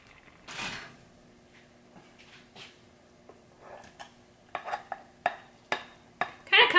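A spoon stirs vanilla protein powder into cauliflower oats in a pot, giving soft scraping and light clinks that turn into sharper, more frequent taps of metal on cookware toward the end.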